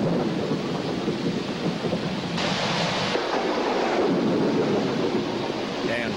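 Steady heavy rain in Malaysia at night fills the whole stretch with dense, even hiss, a low rumble of thunder running beneath it, and no voices.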